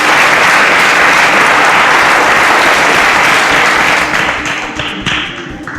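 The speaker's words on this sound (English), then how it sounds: "a round of applause for Okafor" Dense audience applause for a contestant on a quiz show, loud and steady for several seconds before thinning out and fading toward the end.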